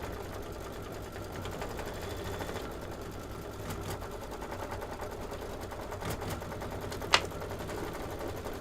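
A computerized embroidery machine runs a steady, rapid stitching rhythm for a Kimberbell autumn project, a continuous mechanical chatter close by with one brief sharp click near the end.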